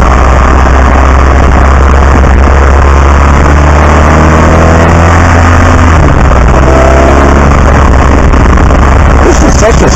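A 2015 BMW R1200 GS Adventure's two-cylinder engine idles smoothly and steadily with a low, even rumble throughout, loud and close, while someone talks over it.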